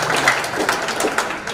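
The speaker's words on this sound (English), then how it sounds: "Can we clap for these judges?" Audience applause at an international technical and vocational education conference, a steady wash of clapping held evenly throughout.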